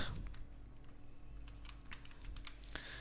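Rapid clicking of computer keyboard keys while entering a company name into a Microsoft Excel spreadsheet, a light irregular patter of keystrokes, close and fairly quiet.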